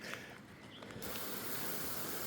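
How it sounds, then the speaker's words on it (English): A garden hose fitted with a nozzle sprays water over dusty solar panels, a continuous broadband hiss that swells and grows louder partway through, close by with no talk. "Just hose them off, get the dust off."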